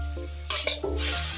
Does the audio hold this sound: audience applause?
no